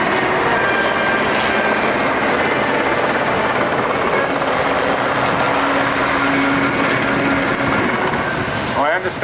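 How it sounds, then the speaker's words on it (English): A Sea King helicopter roars loudly and steadily overhead at an air show, its rotor and engine noise filling the air throughout. "that one celebrating the long anniversary of the Sea King helicopter"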